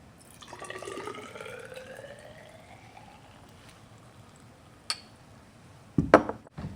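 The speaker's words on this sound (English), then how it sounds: "Pouring solution from the stock beaker into a smaller beaker prevents contamination and wasting solution." A chemistry solution pours from a stock beaker into a smaller glass beaker in a lab. A soft, steady trickle rises in pitch as the beaker fills, then a couple of faint glassy clinks follow.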